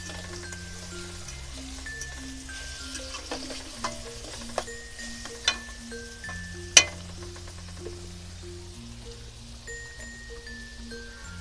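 Vegetables with garlic paste frying for chicken chowmein, a soft steady sizzle under a sustained tonal hum, broken by a few sharp utensil clinks and taps against the pan.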